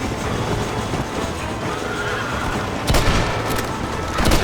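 A train in the Western video game Red Dead Redemption rumbles steadily and loudly throughout, with sharp bursts of noise breaking through near the end.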